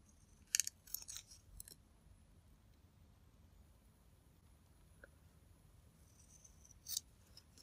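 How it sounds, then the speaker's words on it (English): Scissors trimming paper for a Christmas journal, a few faint, quick snips in a short cluster early on and another at the end, close but quiet against a near-silent room. "And now I'm going to trim around that."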